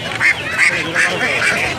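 Domestic ducks quack at a busy poultry market in Sirajdikhan, Munshiganj, in several close, loud, nasal calls at a quick, irregular rhythm.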